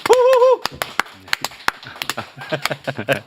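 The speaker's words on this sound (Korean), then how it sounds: "전우영 교수님 박수로 맞이합니다" Studio audience clapping greets Professor Jeon Woo-young on a Korean talk show, heard as a series of sharp, separate claps that are loud and close, following a host's voice calling out the welcome.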